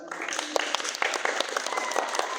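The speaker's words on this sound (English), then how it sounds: "let's round of applause for Evelyn" A short burst of audience clapping for a volunteer at a science show, lively and fairly close, lasting a couple of seconds with no voices over it.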